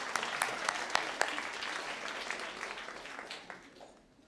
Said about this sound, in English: Another round of applause for Latasha.